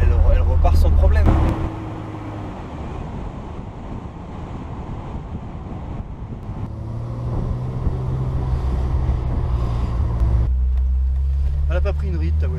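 A 1988 BMW 325i Cabriolet engine pulls from below 1500 rpm in fifth gear, a steady low drone that builds slightly in loudness, mixed with heavy wind rush and buffeting from the open top.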